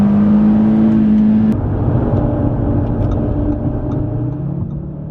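A 2019 Audi RS3 saloon drives fast on the road, its engine holding a steady drone that drops slightly in pitch partway through, with continuous road and wind noise throughout and no voices.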